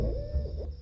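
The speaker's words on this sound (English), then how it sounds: "The hoot of the owl also struck terror in people long ago." An owl gives a single low, hollow hoot, close and clear against a quiet night background.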